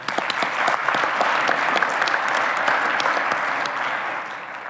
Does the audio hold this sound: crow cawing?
no